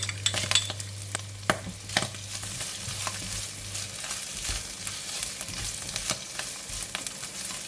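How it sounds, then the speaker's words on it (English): Prawns, tofu, fish cake and salted vegetable stir-frying in a pan for fried kuey teow, a steady hissing sizzle punctuated by repeated sharp spatula scrapes and clicks, with a low hum early on. "Just stir fry for about 2 minutes until the prawns and the tofu and the fish cake is cooked"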